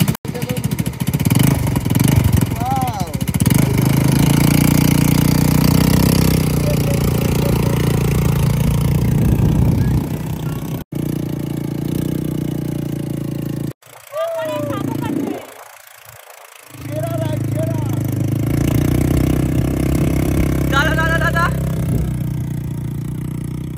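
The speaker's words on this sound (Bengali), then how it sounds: "বাইকটা চালিয়ে কিন্তু সেরা লাগলো, সেরা" A motorcycle engine runs on a beach, a loud, steady drone heard close. It drops out briefly a couple of times before carrying on.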